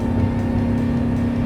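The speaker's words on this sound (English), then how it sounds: "You can hear that engine purring away in the background" A speedboat engine at wide open throttle drones loudly with a steady low hum, running at constant power without rising or falling.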